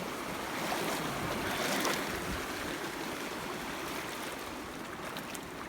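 A mountain creek rushes past a trail crossing below Mt. Bierstadt, a close, steady broadband roar of flowing water with no voices.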